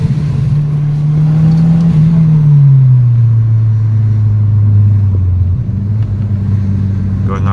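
An Audi 8L S3 turbo engine pulling in second gear up a steep hill, with a loud steady drone that climbs gently and then settles, heard from inside the car with road rumble underneath.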